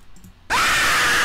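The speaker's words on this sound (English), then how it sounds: "Yeah, this is kind of a scary scream." A sudden, loud, piercing scream blasts out as audio played inside the Roblox game, cutting in abruptly after a quiet moment and holding at full volume.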